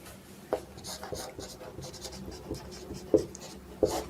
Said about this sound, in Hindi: तो परिभाषा लिखेंगे अपन